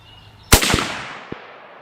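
A single sharp gunshot from a .270 Winchester rifle at a sighting-in range, loud and close, with a long decaying echo trailing off afterward.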